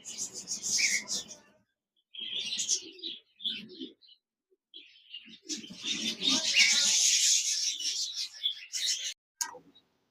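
Green Fischer's lovebirds in a cage give sharp, high chirping calls in bursts with brief pauses, close and fairly loud, alone without talk.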